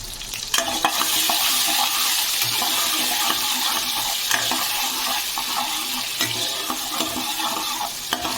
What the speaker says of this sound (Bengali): দু মিনিটের মতো মশলাটাকে একটু ভাজা ভাজা করে নিয়ে